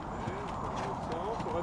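A four-year-old horse walking gives a regular clip-clop of hooves, steady and close, partly under a continuous voice talking over it.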